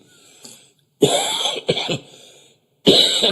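Three bursts of coughing separated by short pauses, close and fairly loud, with a faint small cough or throat sound early on.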